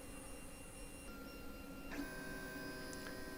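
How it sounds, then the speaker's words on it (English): A 3D printer mid-print retracts filament to keep the nozzle from oozing: a steady whine of stepper motors and fans, close and moderate, with a small pitch shift partway through and no talking. "Doing a little retraction to hopefully remove any ooze that might appear on the nozzle."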